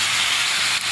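Washed vegetables hit hot oil with fried onions, bay leaf and green chilli, throwing up a loud, steady sizzling hiss that fills the whole short moment with no voices.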